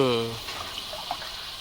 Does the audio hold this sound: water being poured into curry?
yes